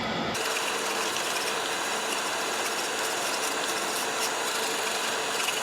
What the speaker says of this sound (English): I'm going to go through and scrape all of this off using the point of my spatula